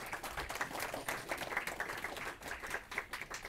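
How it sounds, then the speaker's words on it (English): Applause from a conference audience welcoming a speaker in an Internet of Things developer room at FOSDEM 2015; fairly faint, scattered clapping with distinct individual claps, steady throughout. "Round of applause."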